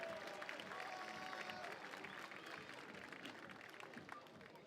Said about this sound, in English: Mesdames et messieurs, applaudissements pour la France.